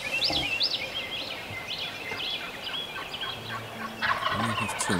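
Several gobbling calls from wild turkeys come from a distance, overlapping with chirping birds amid a constant hiss of outdoor ambience.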